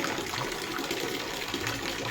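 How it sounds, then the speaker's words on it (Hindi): Steady rain falls in a light drizzle, a continuous broadband hiss of water that stays even and fairly close throughout with no voices. "ये देख रिमझिम बारिश पानी हो गई संगवारी आज।"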